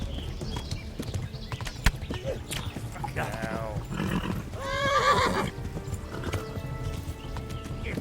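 A horse in a video game gallops with rapid clip-clopping hooves and gives two loud neighs midway, while a brief spoken word cuts in.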